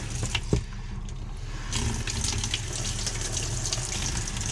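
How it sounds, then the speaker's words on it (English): Water rushes from a faucet into the sink of a 2013 Camplite Livin' Lite 16TBS camper trailer with the water pump on, a steady close hiss that builds louder after a brief thump and continues without talk. "So you got your water here."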